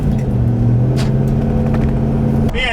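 A heavy truck's engine rumbles and builds as it accelerates away under light throttle, a steady low drone with rising tone heard from inside the cab.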